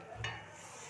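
A spoon gives one quick scrape while stirring chicken curry in a pan, over a faint, low sizzle. Everything is quiet and brief.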